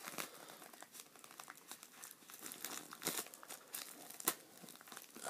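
A cardboard Amazon shipping package being torn open by hand, with crinkling and tearing bursts of paper and plastic, close but quiet, with a few sharper rips and no talking.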